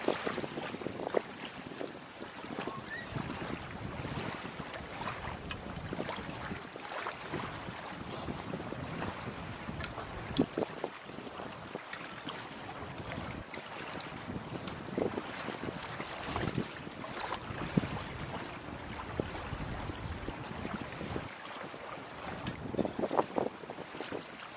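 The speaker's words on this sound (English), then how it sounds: "It is a bit windy, it's straight in my face" Wind gusting at the water's edge of the River Hamble at Warsash, buffeting the microphone in a constant roar with surf-like rushes, fairly faint and steady with no talking.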